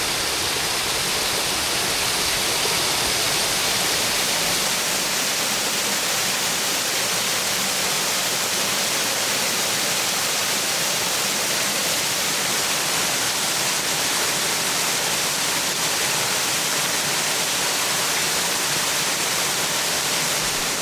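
A small waterfall spills over rocks at Rainbow Falls in Jones Gap State Park, South Carolina, after Hurricane Helene, making a loud, steady, close rush of water that runs unbroken throughout with no voices.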